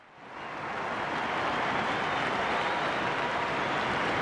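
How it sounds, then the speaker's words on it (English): A big cricket crowd at Melbourne applauds a good innings during a 1995-96 Benson & Hedges match between Australia and Sri Lanka, the clapping swelling quickly from quiet into sustained, dense applause that carries on to the end. "This big crowd, they know a good knock when they see one."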